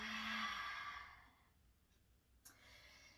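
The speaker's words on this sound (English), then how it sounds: "exhale everything out" A long, fairly soft exhaled breath during a pregnancy exercise routine, fading over about a second and a half, then near quiet with a faint click.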